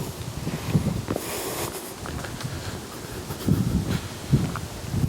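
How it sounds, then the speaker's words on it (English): In Hungerford Forest near the start of autumn, wind rushes through the trees with a steady broadband roar. Leaves rustle and soft thuds and creaks swell and fade throughout. "You know, wind's getting up a bit."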